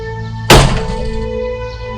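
A single heavy thud against a house door lands close and loud, booming briefly before fading into a low steady hum.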